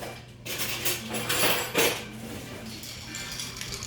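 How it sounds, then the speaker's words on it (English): A spoon stirs an alcoholic drink in a glass, giving a few bright clinks and scrapes that rise and fade over a few seconds, close by and moderately loud. "I'm gonna get a spoon and stir it up"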